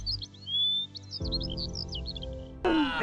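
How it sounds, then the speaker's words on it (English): Small birds chirping in a forest along the Annapurna Base Camp trek in Nepal, quick high tweets over a low hum, followed by a louder burst of sound near the end. "It was a pleasure to walk through the forest where we heard birds"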